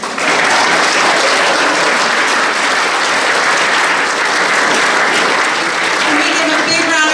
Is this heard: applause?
yes